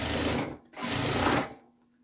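A sewing machine runs through several thick layers of fabric sandwiched together, two close, loud bursts of fast stitching with a short break between them, the motor winding down at the end; no one speaks.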